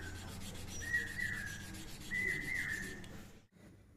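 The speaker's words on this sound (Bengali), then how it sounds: "লাল চন্দন সাদা চন্দন দুটোই লাগবে লালটা কিছুটা হয়েছে আর একটু বাটছি আর এই যে সাদা চন্দন এটাও বাটবো" Red and white sandalwood is ground into paste on a stone, a quiet steady rubbing and scraping with a few brief squeaks, then a short pause near the end.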